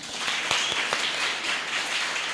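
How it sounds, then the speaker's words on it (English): Moderate applause from an audience at a women's summit, a short burst of scattered clapping with a few sharper individual claps, fairly steady and without talk. "Can we give her a clap?"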